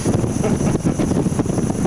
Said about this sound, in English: Boy, it's windy up here.